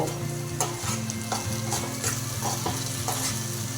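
Spices and red desi okra curry being stirred in a pan, with steady spoon scrapes and a light sizzle over a constant low tonal hum.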